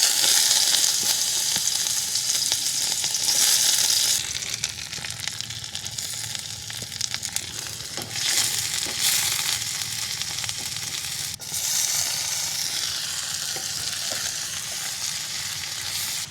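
Onions fry in a pan at a campsite, a steady loud sizzle running throughout with brief shifts in intensity as the pieces are stirred; no talking.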